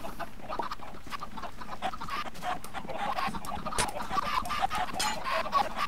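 Many Minecraft chickens cluck and squawk together in a busy, continuous chorus. The calls overlap densely and keep a steady loudness throughout.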